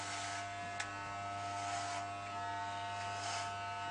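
Electric hair clippers cutting a child's hair give a steady, faint, close mechanical buzz with a constant hum throughout, without talking.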